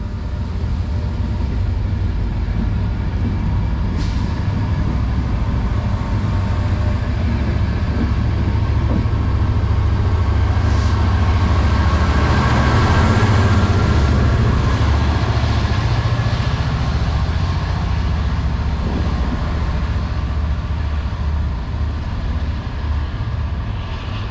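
Transport for Wales passenger service from Cardiff Central to Crewe passing on the Welsh Marches Line, a loud, continuous rumbling roar with engine drone that swells through the middle and stays heavy for over twenty seconds.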